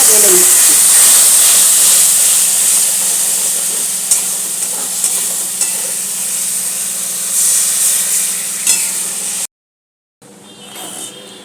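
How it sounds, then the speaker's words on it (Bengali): Hot water poured into spice masala cooking in a pan for a cauliflower and egg curry, a loud sustained sizzle and hiss with steam that gradually eases, then cuts to silence before a quieter bubbling resumes. "এবার আমি একটু গরম জল করে রেখেছিলাম এটা দিয়ে দেবো"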